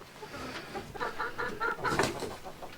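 Chickens cluck steadily around hen laying boxes on a small farm, a busy layered chorus of hens at moderate loudness with no talking.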